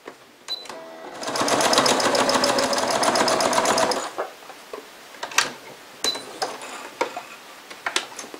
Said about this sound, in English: I'm going to simply finish it by top stitching